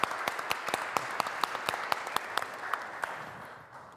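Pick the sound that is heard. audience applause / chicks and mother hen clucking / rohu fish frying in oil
audience applause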